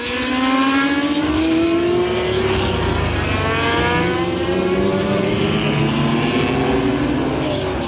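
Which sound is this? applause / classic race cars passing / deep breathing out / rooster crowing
classic race cars passing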